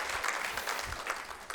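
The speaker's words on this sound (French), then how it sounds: "On peut l'applaudir, l'accueillir" Short stretch of applause from a church congregation, a fairly faint, steady patter of many hands clapping.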